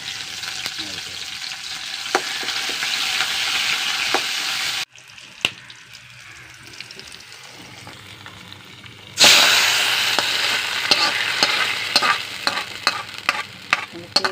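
Dried red chillies and curry leaves fry in hot oil with a steady loud sizzle that briefly drops and then flares up sharply again, with no talking.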